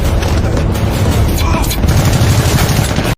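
Movie action scene at a factory gate: a loud explosion and bursts of gunfire over a rumbling, dense low-end mix, continuous and forceful until it cuts off abruptly.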